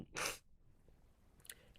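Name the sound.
sneeze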